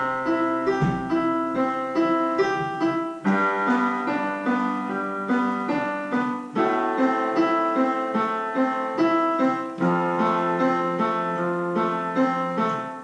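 Piano notes ripple upward in repeating broken chords, each pattern ringing and decaying before the next chord starts, played alone and clearly.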